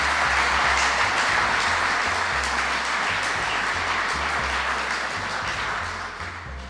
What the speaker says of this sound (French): Merci de nous applaudir.